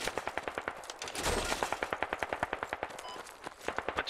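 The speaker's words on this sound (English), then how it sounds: "We have a ton of shots from the south." Sustained automatic rifle fire in the video game Squad, a fast even rhythm of loud rounds with a heavier blast partway through, continuous for the whole stretch.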